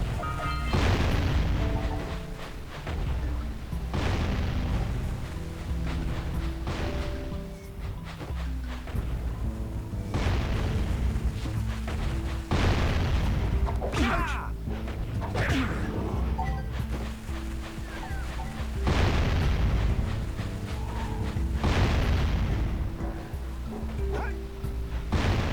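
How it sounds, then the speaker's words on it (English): Bombs go off in Jak and Daxter, a series of deep booming blasts spaced a few seconds apart over steady game music and ambience, each with a heavy low thump and a crackling tail. "What is throwing the bombs at me?"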